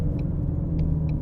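Shelby GT350 with a 5.2 flat plane crank V8 engine, a steady low rumble at moderate distance with a few brief high-pitched ticks over it, lasting only a moment.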